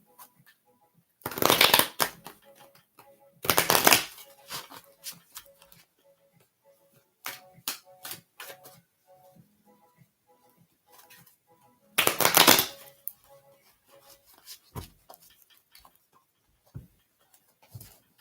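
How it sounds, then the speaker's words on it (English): Playing cards are shuffled in several quick riffle bursts, crisp and close, separated by quiet pauses with soft ticking and taps. "I just want to shuffle the cards good."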